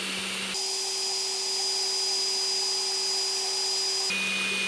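A 3D printer printing white PLA whines steadily as its stepper motors run, a sustained tonal hum that is framed by short quieter stretches at the start and end.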